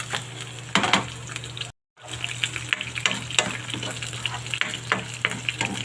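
Meat sautéing in a pan for ginisang munggo, a dense crackling sizzle with spoon scrapes and stirring knocks, close up, briefly cut off by a moment of silence, no talking.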